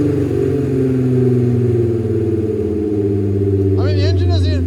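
A Volkswagen Passat engine idles steadily with a low, even hum close by, while people talk over it.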